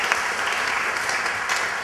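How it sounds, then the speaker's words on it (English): A brief burst of audience applause for a volunteer at a James Randi skeptic event in Sweden: many hands clapping evenly and moderately loud, with no talk over it. "A round of applause for the gentleman."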